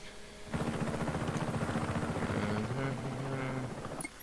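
A helicopter in Just Cause 3 starts up after a short quiet moment, then its rotor thumps rhythmically with a steady, loud chop and engine drone that continues for several seconds.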